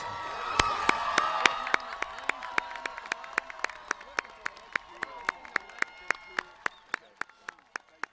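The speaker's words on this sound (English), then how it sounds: "Let's give those graduates another round of applause" Graduation audience at a Class of 2021 commencement gives another round of applause, with crowd noise and cheering beneath a steady run of sharp, evenly spaced claps that carry on alone as the crowd thins.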